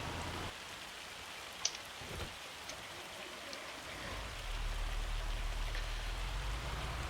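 Rain falling in the Farming Simulator 25 video game, a steady broadband hiss of rain on surfaces with a low rumbling drone rising toward the end, no talking.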